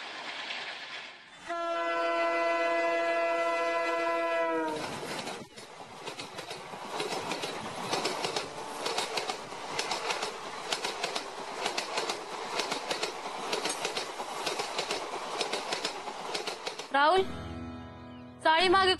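A train heard indoors from a nearby home, beginning with a long sustained horn blast, then a steady rhythmic clatter of wheels on rails running for many seconds, and ending in another short horn sounding.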